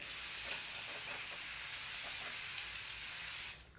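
A Caudalie grape water facial mist bottle sprays a steady, close hiss for about three and a half seconds, then cuts off.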